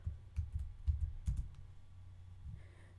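Keys on a computer keyboard are typed in a quick burst of soft clicks, then fall to sparse taps and quiet room tone; no one speaks.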